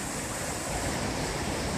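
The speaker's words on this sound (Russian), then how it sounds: "Ну вот мы приехали на водопад Дюдан-Шалале," Rushing water at the upper Düden waterfall near Kemer, Turkey, a dense, steady roar filling the whole moment with no breaks and no voices.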